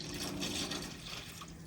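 Salt water trickling and splashing steadily as it drains and pours out of a flood-damaged 1973 Pontiac Firebird Trans Am, a soft, continuous watery gurgle without speech.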